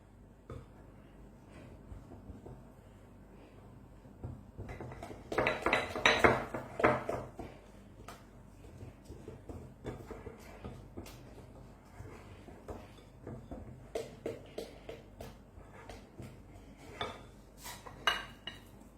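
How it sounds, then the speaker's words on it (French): Two eggs beaten in a bowl for a rice and ricotta tart: clattering of a utensil against the dish, a brief burst of fast rattling whisking, then scattered clinks and taps at close range. "je vais mettre 2 œufs que je vais battre"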